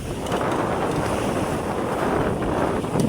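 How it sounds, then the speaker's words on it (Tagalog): Strong wind on a boat out on the Pacific Ocean buffets the microphone in a steady, loud roar, with a faint wash of water beneath it. "medyo nararamdaman ko na yung hangin na malakas-lakas"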